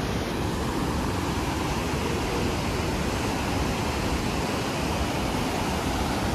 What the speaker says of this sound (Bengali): জলটা ছেড়েছে বাঁধের